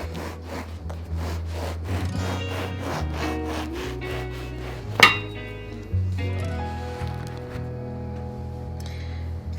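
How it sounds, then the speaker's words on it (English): A knife saws lengthwise down the center of a loaf of French bread in a close, steady run of rasping strokes, with one sharp clink partway through. "You want to take one loaf of French bread, slice it down the center."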